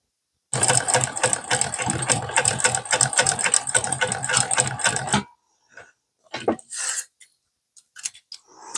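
A Singer 291u1 industrial sewing machine stitches a crossbody bag in a steady, rapid mechanical clatter for about five seconds, then stops, followed by a few faint handling noises close by.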